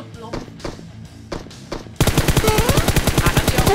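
Rapid automatic gunfire rings out from a hill in the PUBG Mobile game: scattered single shots for two seconds, then a loud sustained burst of fast, evenly spaced rounds.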